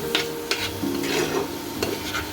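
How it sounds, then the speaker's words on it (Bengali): Bengali-style chicken curry masala is stirred and fried in a pan, with repeated close scraping strokes over a loud, continuous sizzle and no voices. "এবার এটাকে আমি খুব ভালোভাবে কষে নেব।"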